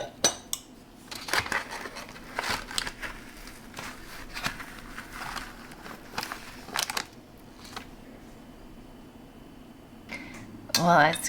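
Frozen strawberry hibiscus sorbet being scooped from its container, giving repeated scraping and clinking of a utensil against the container with sharp clicks. A louder clatter comes near the end, with brief quiet gaps between scoops.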